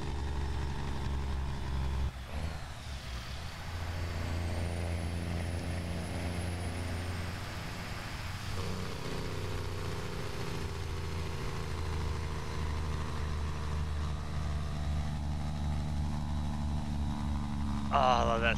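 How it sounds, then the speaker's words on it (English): American Truck Simulator truck pulling into Parry Sound, with a steady low engine drone and a Jake brake rumble running through, a sharp hiss near the end. "Oh, I love that sound of that Jake brake."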